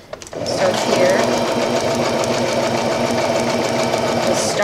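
A sewing machine stitches velvet at a longer stitch length, giving a steady, close mechanical whir that runs unbroken throughout.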